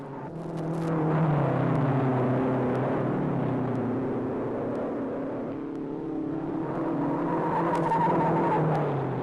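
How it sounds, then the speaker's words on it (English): Race cars roaring around the track at the 1955 Indianapolis 500, a continuous loud engine drone with tire squeal, swelling and fading as the cars pass, with no talk. "A thin wisp of smoke trails from McGrath's car as Vukovic keeps up the pressure."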